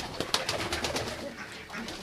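Pigeons in a home loft coo softly as the flock leaves, a fluttering murmur of calls and movement at moderate distance, fairly faint and continuous.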